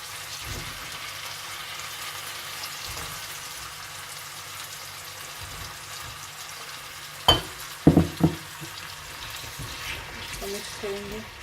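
Eggplant and potato stirred into a pan with ginger and garlic, giving a low, steady frying hiss, with a cluster of sharp spoon-on-pan knocks late in the clip.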